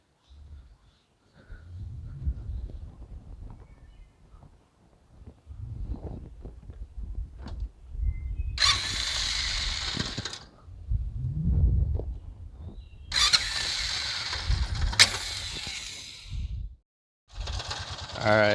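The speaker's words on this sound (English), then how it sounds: "we'll start it up here for you guys quick" A 2006 Honda Foreman Rubicon ATV, due for a valve adjustment and idling very low, is cranked and fires in several bursts, each a loud rough engine roar that cuts in and out over quiet rustling handling noise.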